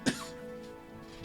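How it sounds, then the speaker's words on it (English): A single short cough, turned away from the microphone, right at the start, followed by quiet room tone. "I'm going to turn away from the microphone while I cough a little bit."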